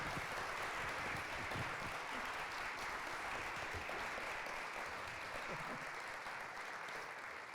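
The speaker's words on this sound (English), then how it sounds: "Another round of applause for these two, please." An audience at a community event applauds in a steady, even wash of clapping that holds throughout, moderately faint and heard from a distance.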